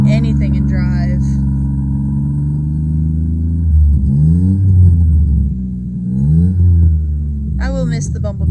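A struggling engine in a 1989 Toyota Camry wagon with a failing fuel pump drones low and steady, swelling into strained revs that rise and fall twice while barely moving in drive.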